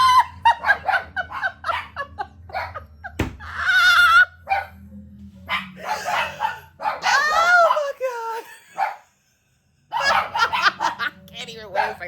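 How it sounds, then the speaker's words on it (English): Dogs bark indoors in a home in short, sharp volleys amid ongoing lively talk and laughter, loud and close, with a brief silent gap near the end. "when the dogs started barking"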